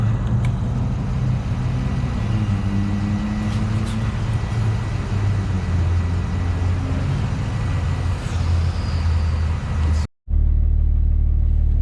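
A vehicle on the way to a 7.3 Powerstroke diesel project gives a steady low engine rumble and road noise from inside the cabin, continuous and loud, with a brief cut near the end.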